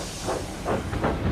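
Thomas the Tank Engine, a small steam locomotive, lets out a steady hiss of steam with three soft surging chuffs as it runs, fairly close and alone without talk.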